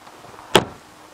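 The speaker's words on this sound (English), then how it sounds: "We'll just hook the door together." A single sharp metallic clack rings out as the door of an Aliner A-frame pop-up camper is hooked together, a short close latch sound in an otherwise quiet space.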